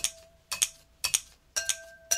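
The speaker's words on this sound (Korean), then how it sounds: "계란을 풀 때는 저는 가위를 사용해요." Scissors whisk eggs in a bowl for Korean steamed eggs, making sharp clinks against the bowl in a steady rhythm, about every half second, usually in close double taps.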